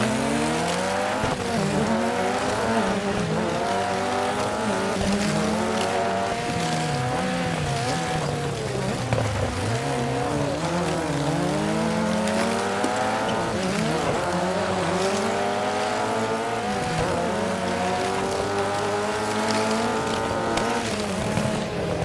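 Motorized diecast toy cars racing down a track in a food truck tournament, producing a continuous whining motor drone that sweeps up and down in pitch, steady and fairly loud for the whole stretch.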